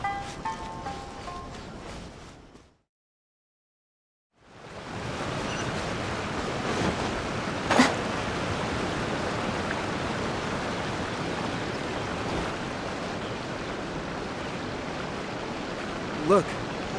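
A waterfall in the video game Genshin Impact roars as a steady broadband rush of falling water, with a brief dropout near the start and a couple of faint chimes above the constant wash.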